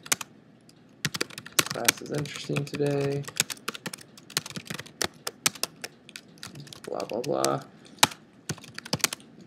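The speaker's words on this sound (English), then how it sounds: "we can both be typing at the same time" Rapid clicking of a computer keyboard being typed on throughout, with a few short stretches of a voice talking over the keys.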